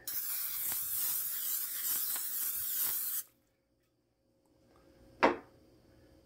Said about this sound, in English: preheat this pan to medium-high heat and then spray it with cooking spray